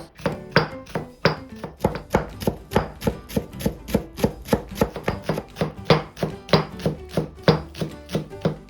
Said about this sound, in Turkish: Yeşil soğanlarımızı da ince ince kıyıyoruz.